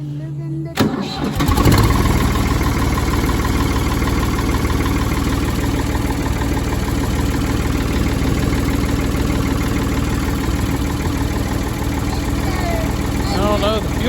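A Ford 4610 tractor engine cranks briefly and catches, then settles into a loud, steady idle that runs close and unbroken for more than ten seconds.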